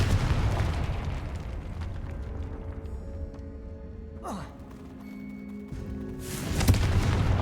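A Confringo spell explosion in a video game: a deep, rumbling blast dies away into a faint hum with a brief rising whoosh, then another heavy burst comes near the end.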